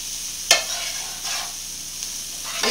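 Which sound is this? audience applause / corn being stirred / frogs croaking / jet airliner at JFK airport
corn being stirred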